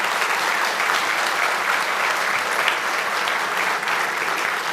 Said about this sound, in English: Let's give a round of applause for those guys